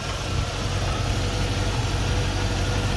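A 1997 NAS Defender engine idles steadily after the key is turned, without the throttle pressed, giving a continuous, even rumble with no voices.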